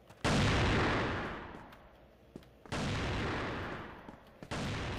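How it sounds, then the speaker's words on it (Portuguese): Dense bursts of video game gunfire in CrossFire, near and loud, forming two long sustained volleys with a short break between them, like rapid automatic fire with booming impacts. "Por que tudo isso de tiro?"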